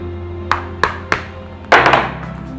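A hammer taps on a shoe last: three separate sharp knocks, then a quick cluster of hits, close and fairly loud.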